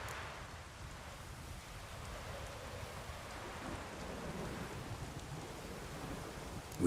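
A rainstorm in The Witcher 3 video game: steady, dense rain hiss with low rumbling thunder underneath, continuous and even throughout, with no voices.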